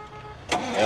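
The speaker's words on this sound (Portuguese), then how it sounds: "O amigo vai dar partida aqui para a gente escutar ela funcionando." A Ford F-4000 truck at a used car fair in Caruaru, Pernambuco, its engine cranking and catching in a short, close burst that rises into a rough running sound.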